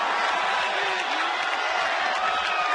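Baseball fans in Arlington cheering a World Series Game 5 celebration, a steady, dense crowd roar with applause mixed in, loud and continuous throughout.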